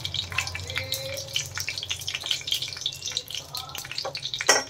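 Black cumin seeds and green chillies fry in hot oil in a pan, giving a continuous crackling sizzle with sharp pops and spits, moderately close and steady throughout.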